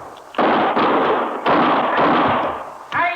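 Four loud, booming gunshots in a Gunsmoke radio drama, fired in close succession about a second apart, each with a rolling echoing tail, alone without talk.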